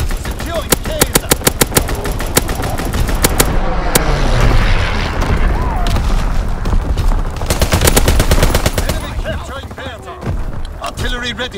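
Heavy gunfire and artillery from a Call of Duty: WWII domination match on the Shipment 1944 map: rapid machine-gun bursts crackle over rumbling booms and explosions, with dense overlapping shots filling the whole stretch and game voice callouts underneath.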